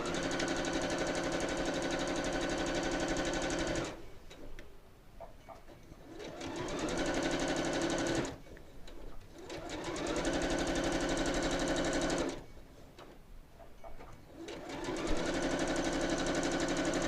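A sewing machine stitches quilt block seams over pins for a Double Disappearing Nine Patch block, running in three loud steady bursts of several seconds each, split by short pauses filled with faint handling sounds.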